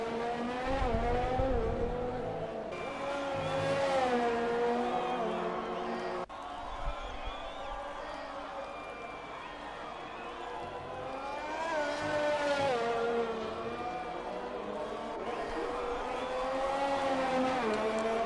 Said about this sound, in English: that will be the Mercedes of Joseph Vanderville on his out lap